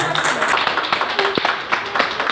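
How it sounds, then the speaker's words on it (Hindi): Applause and clapping from an audience at a group meeting in Ahmedabad, a fairly loud, steady patter of many hands with some sharper individual claps and faint voices mixed in. "इस बार आप लोग कीमती समय निकाल के आए, उसके लिए भी जोरदार ताली होनी चाहिए"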